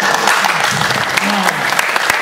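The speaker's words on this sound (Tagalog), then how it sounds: "Salamat po sa inyong palakpak para sa aming dalawa." An audience at a religious debate between a Seventh-day Adventist and an Iglesia ng Dios speaker claps in a steady, dense burst, with voices faintly audible beneath the applause.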